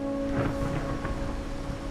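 Rain falls in the Wuthering Waves video game, a soft, steady hiss of drops on surfaces with a low rumbling undertone, quiet and continuous beneath a faint steady tone.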